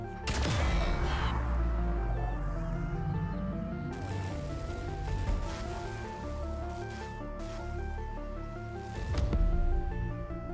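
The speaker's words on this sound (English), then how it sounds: "But now there's a bit of an explosion going on." An explosion erupts in the video game Grounded as three machine beams target an oak tree, with a heavy boom, a sustained rumbling blast and a second burst layered over tonal game music.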